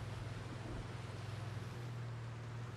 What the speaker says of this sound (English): Dude, these waves are insane.